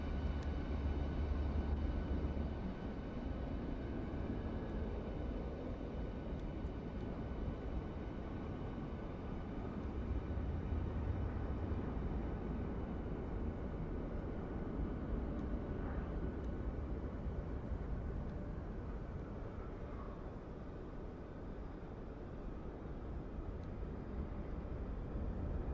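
Engines of a Norwegian PMDG 737-800 airliner drone in Microsoft Flight Simulator 2024 on a flight from Oslo to Bordeaux, a low, steady hum that holds even and fairly quiet throughout with no voices.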